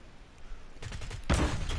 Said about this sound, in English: I hear 3 gunshots.